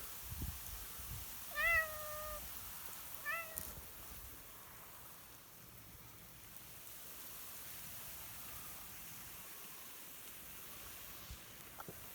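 Two short meows from a cat held in someone's arms close by, one after another near the start, followed by a steady hiss of freezing rain with no further calls.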